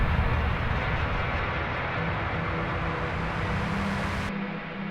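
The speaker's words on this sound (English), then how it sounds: "You can actually genuinely sit through that tram ride if you wish." A steady rumbling tram ride in the top-down horror game Subterrain, a continuous loud mechanical drone with rail-like hum that holds evenly and then drops off abruptly near the end.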